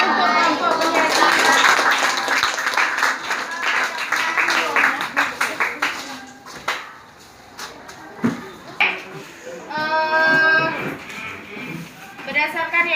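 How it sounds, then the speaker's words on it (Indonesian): A room of participants at a teacher training session breaks into dense clapping, loud at first and then thinning out, with voices chattering and a burst of talking and cheering near the end. "Tepuk tangan untuk kelompok penyerta."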